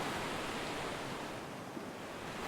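Ocean waves break on the shore at a surf spot on Lipopett Island, a continuous loud wash of surf with no talking.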